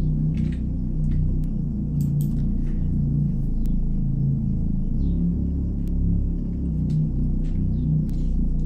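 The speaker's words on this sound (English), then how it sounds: "you can hear the engine sound in the background" A tractor engine reworked into a bass sound in an EDM track rumbles loud and steady, thick and low, with faint clicks and crackles above it.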